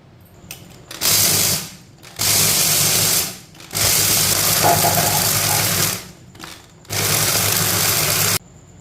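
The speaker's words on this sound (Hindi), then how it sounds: "अब इसे हम अच्छी तरह ग्राइंड कर लेते हैं।" A kitchen grinder blending recipe ingredients runs in five loud whirring bursts of about a second each, broken by short pauses, close and with no talk.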